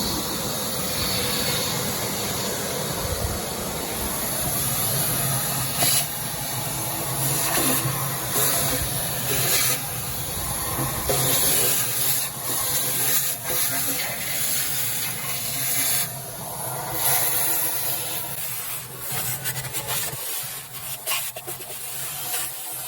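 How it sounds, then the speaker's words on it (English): A shop vac sucks residue from inside a Traeger grill, a steady loud roaring hiss with scraping and rubbing bursts as the nozzle moves, lasting throughout with no pause. "plug in the shop vac and then suck out all of this residue inside of here"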